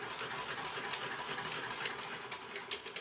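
A vintage Singer 128 hand crank sewing machine being worked, a quiet, tinny, rapid mechanical clatter with steady rhythmic ticking and occasional sharper clicks, heard close and alone.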